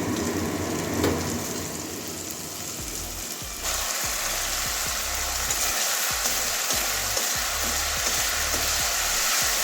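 Spices sautéed in sesame oil for spicy chicken, a dense, loud sizzle that jumps in intensity partway through, with rapid spatula scrapes and taps repeating against the pan.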